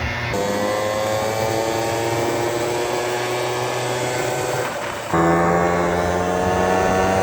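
A homemade mini bike built from a scooter, driven by a small engine, drones steadily and loudly close by, its pitch holding even and then jumping higher near the end as the rider opens the throttle.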